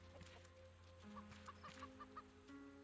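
A chicken in the video game Raft gives a string of soft, short clucks. They are faint and close, laid over a quiet hum of game ambience and steady tones.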